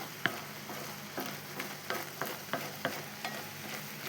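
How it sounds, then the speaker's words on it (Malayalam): Milk laddu mixture is stirred with ghee in a pan: steady scraping strokes recur about every third of a second over a continuous low sizzle, close and moderately loud. "നെയ്യ് ഒഴിച്ച് നല്ല കണ്ടീഷനായിട്ട് ഇളക്കി ക്ലിയറാക്കട്ടെ."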